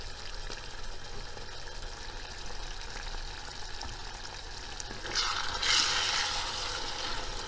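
Minced meat sizzles in a pan with black pepper, salt and red pepper flakes, a steady close frying hiss that swells briefly louder toward the end as it is stirred.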